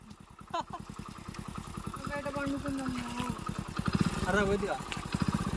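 A motorcycle engine putters with a rapid steady pulse while riding on a rough village road, close and moderately loud, with people talking over it.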